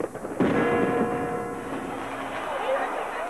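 A busy, noisy din of dense crackling and booming midnight New Year's fireworks against a steady background roar, with a sharp onset of louder blasts early on and continuing throughout, in Moscow near the Kremlin.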